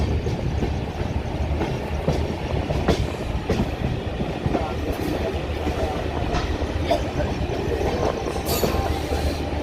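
A moving passenger train on an unplanned journey from Vijayawada to Nagpur gives a steady, loud rumble with faint rhythmic wheel clatter on the rails and occasional brief metallic squeaks, without pause.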